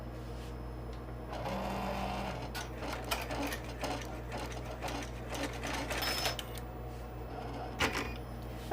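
An embroidery machine stitches a run of small eyelets up a high-top shoe design on a zipper bag, its steady rapid needle clatter running close and continuous with a few sharper clicks.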